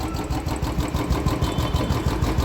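A Royal Enfield Electra motorcycle engine idles steadily and evenly, a close, continuous low thumping rumble with no talk.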